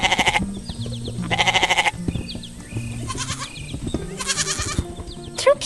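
White goats on a farm bleat several times in loud, wavering calls, some overlapping, against a background of light clatter and farmyard noise.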